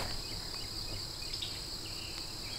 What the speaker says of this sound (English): you'll hear the crickets